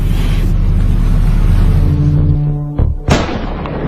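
Navy SEAL sniper rifles firing in synchronization at pirates at sea, a loud booming blast that rolls and fades, then two sharp cracks near the end.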